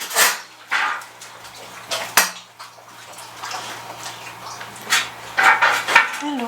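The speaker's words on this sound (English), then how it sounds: "what you hear is my dogs drinking water." Dogs lap water from a bowl indoors, a series of irregular wet slurps and splashes with small clinks, fairly close and heard alone without talk.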